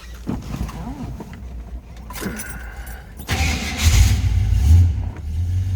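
A 1971 Buick Skylark two-door hardtop's engine cranks and catches, settling into a loud, low rumbling idle after a few seconds of quieter handling noises.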